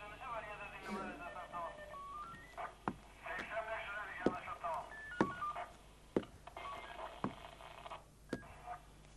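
A telephone is dialed in a Turkish TV drama, with a run of short keypad tones and clicks mixed with soft background music and voices talking.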